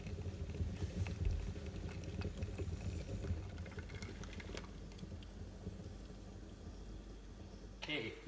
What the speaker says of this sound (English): Now that you've brewed your espresso